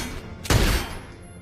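A single sharp gunshot bursts out in a tense TV drama scene, loud and brief with a quick decaying tail over quiet room tone.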